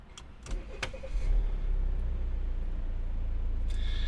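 A 2017 Volvo V90 Cross Country powering up with its engine already running: a few soft clicks and chimes over a steady low idle rumble that swells slightly and holds, heard from inside the cabin.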